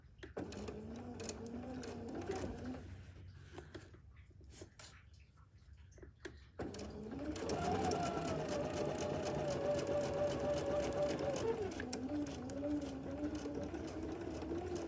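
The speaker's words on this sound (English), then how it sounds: "I just guided it about a stitch over right there, and then right back on my seam line." A sewing machine stitches a quilt block along its seam line with a steady motorized whir, pausing briefly midway before running again louder and continuous for the rest of the clip.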